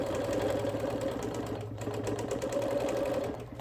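A sewing machine machine-quilts a wool appliquéd quilt with a close, steady, rapid stitching rhythm that runs continuously without talk.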